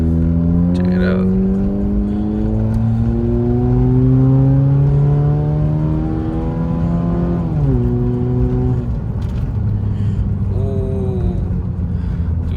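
A Honda Fit fitted with a new cold air intake drives and accelerates, its engine note climbing steadily in pitch through the gears with a shift dip partway, loud and close from inside the cabin.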